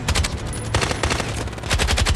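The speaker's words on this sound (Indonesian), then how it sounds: "aksi baku tembak pun gak bisa" A film gunfight with rapid machine-gun bursts and repeated gunshots, loud and close, firing in clustered volleys with no talking.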